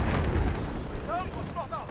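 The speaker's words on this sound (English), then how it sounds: "Allied cruise missile on the way." A cruise missile explosion in Call of Duty: Modern Warfare rumbles low and heavy, fading over about two seconds, with faint radio-like game chatter tones near the end.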